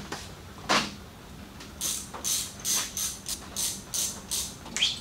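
Small Allen key bolts being undone on a 4x4 winch, a series of short, close metallic ratcheting clicks in bursts with brief pauses between them, and no talk.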